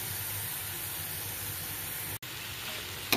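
Chickpeas fry in a pan with a faint, even hiss-like sizzle, a momentary dropout partway through and a short clatter right at the end.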